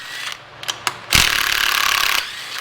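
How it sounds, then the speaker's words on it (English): An 8 mm clutch cover bolt on a Suzuki GSXR 1000 is backed out with a power tool: a couple of short taps, then a loud sustained whirring buzz for about a second before it cuts off. "We'll start popping these 8 millimeter head 6x10 bolts out."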